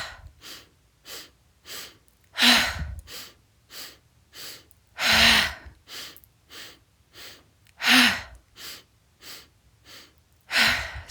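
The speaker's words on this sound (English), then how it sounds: "you're going to take 3 short, quick spurts of breath to fill up the lungs as you swing the arms" During a Kripalu-style yoga breath-of-joy practice, a person takes rounds of three quick, sharp inhales, each followed by a forceful, breathy exhaled ha; close, repeated and rhythmic, no speech.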